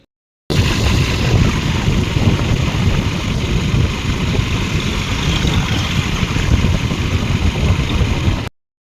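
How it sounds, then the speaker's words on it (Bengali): A steady, low motorcycle engine rumble idling close by, continuous and unchanging for several seconds before cutting off. "দাঁড়া পাপা বাইকটা বের করুক"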